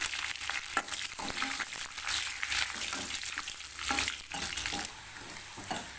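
Hot oil sizzles and crackles steadily with a dense, hissing spatter as spices and dried red chillies fry for tomato rasam, close by, with occasional stirring scrapes and no talking.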